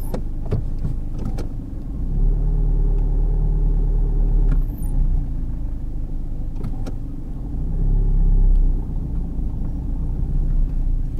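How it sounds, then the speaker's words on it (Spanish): Busy street traffic on a sloped road in Spain, heard from inside a car: a steady low engine rumble that swells as vehicles pass close by. "Hay mucho tráfico en esta zona."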